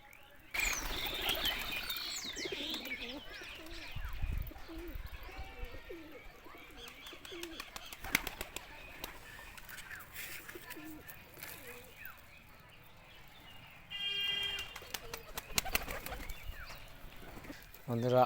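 Pigeons kept at a home loft coo and chirp steadily while bursts of flapping wings break in now and then, a busy, close flock sound with a stronger flurry of wingbeats near the end.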